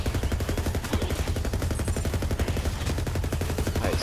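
Rapid, steady automatic fire from a gun in the game Borderlands 3, a fast continuous rattle of closely spaced shots lasting the full four seconds, loud and close with no pauses.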